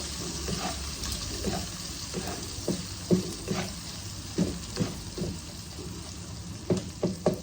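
Katla fish frying in a pan with salt, a steady close sizzle broken by repeated scraping stirs of a spatula against the pan.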